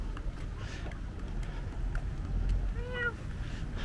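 A young girl imitates cat meows on a street in Montenegro: two or three short, rising-and-falling mewing calls, faint and fairly close, over quiet outdoor background noise.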